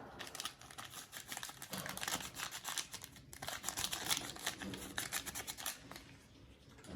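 A baking powder packet crinkles and rustles in busy, irregular bursts, close and crisp, with a voice faintly present during the handling.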